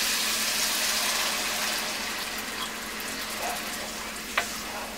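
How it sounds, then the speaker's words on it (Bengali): A little broth goes into a pan of fried spice paste for a prawn and pointed gourd dolma, giving a broad, hissing sizzle that slowly eases, with one sharp tap near the end. "এখন এটার সাথে আমি হালকা একটু ঝোল দিয়ে দিব"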